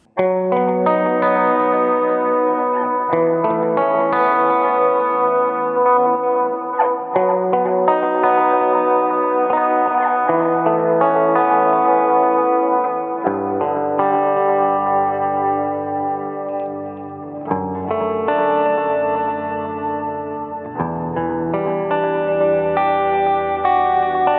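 Electric guitar played through a Line 6 Helix amp and cab model with an always-on boost: loud, sustained driven chords and melodic lines with echoing, chorus-like shimmer, ringing continuously without any talk.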